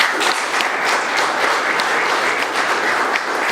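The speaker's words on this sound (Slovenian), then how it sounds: "To seveda zasluži aplavz." An audience at a University of Primorska event in Koper claps steadily and loudly throughout, a dense, even wash of many hands with no pauses.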